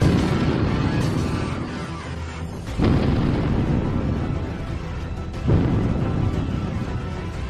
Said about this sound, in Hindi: और फिर बमों की तेज धमाकों